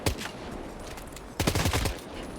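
Semi-automatic gunfire from a weapon in the video game Death Stranding 2, with a few sharp shots near the start and a denser burst of rapid shots about halfway through.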